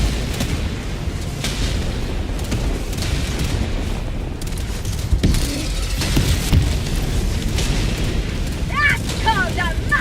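Orbital strike explosions in Helldivers 2 roll out as heavy, rumbling booms with crackling debris, loud and continuous across the stretch, with voices present underneath.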